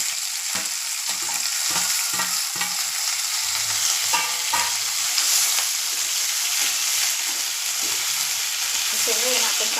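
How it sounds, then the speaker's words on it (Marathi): Cluster beans fry in hot oil in a pan, giving a steady close sizzle and hiss throughout, with soft scraping and stirring noises on top. "आपण हे शेंगा आहे ना ह्याच्यामध्ये चांगल्या भाजून घ्यायचं."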